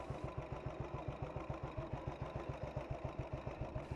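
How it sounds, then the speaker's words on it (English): A Panther Model 100 motorcycle engine, about 70 years old, idles steadily up close, its low, even putter pulsing in a fast regular rhythm with no voices. "the engine ticking over steadily"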